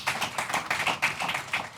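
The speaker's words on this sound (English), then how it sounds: "Come on, round of applause." An audience at a John Boyega master class gives a round of applause, with close, brisk hand claps in quick bursts that keep going throughout.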